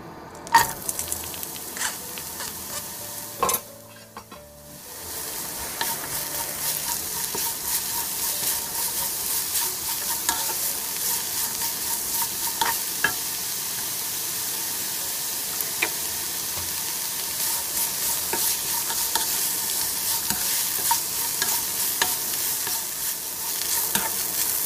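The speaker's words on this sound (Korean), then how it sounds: "달군 팬에 올리브유 2큰술을 두르고 우엉을 넣고 볶아주세요." Burdock root stir-fries in two spoons of olive oil in a hot pan, making a dense, constant sizzle that swells after a brief quieter opening and holds evenly throughout.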